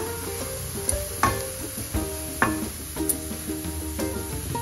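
Fresh grated coconut stir-roasted in a pan over low to medium gas, with soft scraping and stirring strokes and a few sharper taps of the spatula against the pan at an uneven pace, close and fairly quiet.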